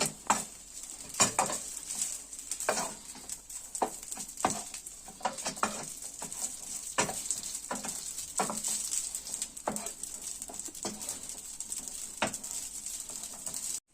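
Pasta tossed with sucuk and sausages in a hot pan: a soft background sizzle broken by repeated scraping and clinking strokes of a utensil against the pan, irregular and fairly quiet, with no talking.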